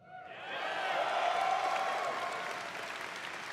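At Blizzcon 2023 a convention crowd gives lukewarm applause that swells over the first second, holds as a steady even patter, then slowly thins out.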